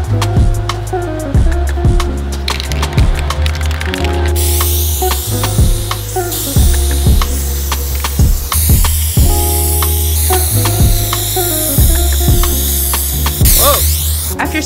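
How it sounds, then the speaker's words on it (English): Loud hissing bursts from a spray can of adhesive, sprayed onto a board and cork board, repeat in short passes, close up, with clicks and clattering between sprays. "After spraying the adhesive on the board and the cork board"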